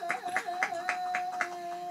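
On the set of the Gabo Ramos Show, an audience claps in a steady, evenly spaced beat, each clap crisp and moderately close, with a sustained tone humming underneath.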